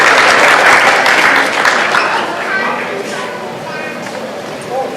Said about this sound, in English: Big applause for our Director,